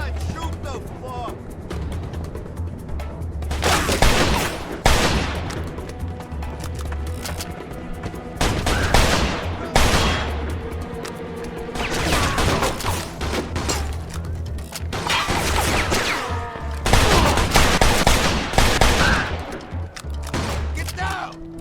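Repeated bursts of shootout gunfire from Mafia II, loud volleys recurring every few seconds under shouting voices and a steady game background.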